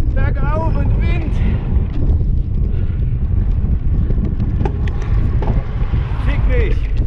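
Strong wind buffets the microphone in a constant roar while a cyclist climbs uphill, with a voice speaking over it in places.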